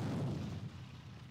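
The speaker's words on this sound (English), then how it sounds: "let's go ahead and pound the enemy anti-tank guns on the airfield to the north with our artillery" Artillery fire in the WWII strategy game Attack At Dawn: North Africa, shelling enemy anti-tank guns on an airfield, heard as a faint, muffled rumbling boom that slowly fades out.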